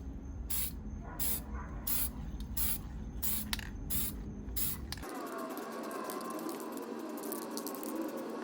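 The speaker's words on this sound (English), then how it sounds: "Start spraying it." Aerosol spray can misting a coating onto exhaust heat wrap, first in a series of short hissing bursts, then one long steady close hiss, with no talking.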